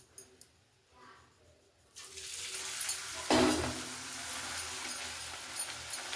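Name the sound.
puri frying in hot oil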